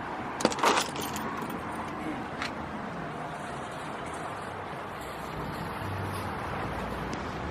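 A bunch of truck keys jangles briefly as it is handed over, a short bright metallic rattle near the start, followed by low outdoor road and vehicle noise.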